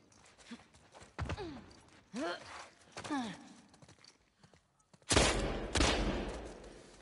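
Gunfire in The Last of Us Part II: several sharp shots and bursts ring out, including a louder volley near the end, mixed with a man's speech and faint in-game movement.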